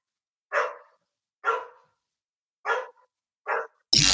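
A dog barks four times at steady, spaced intervals, each bark short and clear against silence, followed by a sudden burst of noise at the end.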